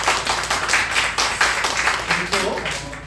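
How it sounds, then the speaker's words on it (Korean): A church congregation gives a short round of applause for a birthday, scattered steady clapping with a voice talking over it throughout. "박수로 축하드립니다."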